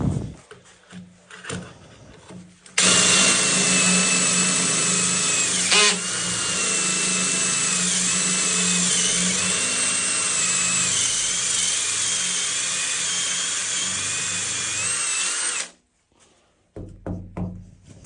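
A power drill with a ratchet clutch whines steadily for about thirteen seconds drilling porcelain stoneware tile after a few knocks, then stops, followed by more scattered knocking sounds.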